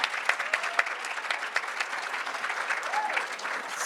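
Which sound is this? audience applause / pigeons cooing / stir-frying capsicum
audience applause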